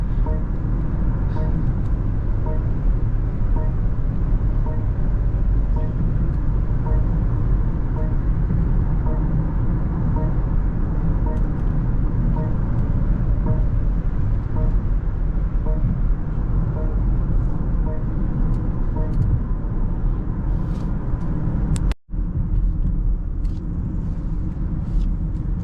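A 2025 BMW X7 SUV cruises along a busy Indian highway, a constant loud cabin rumble of engine and road noise with steady tyre hum and a brief dropout near the end, no voices.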